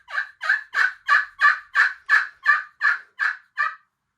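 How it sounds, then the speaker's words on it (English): Wild turkey yelping: a steady run of eleven evenly spaced, raspy yelp notes, loud and close with no other sounds around them. "Those turkeys yelping is hey, over here I am kind of deal."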